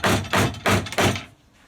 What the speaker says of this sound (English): All I've got to do is hammer that in.